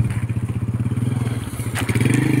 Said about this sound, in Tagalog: Meron motor na guys, oh.